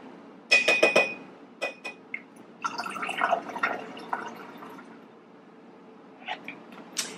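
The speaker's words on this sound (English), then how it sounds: "I'm kind of rinsing this cup out." Water sloshes and trickles while a cup is rinsed out, with a few glassy clinks and splashes near the start, then quieter swirling and drips, close and moderately loud.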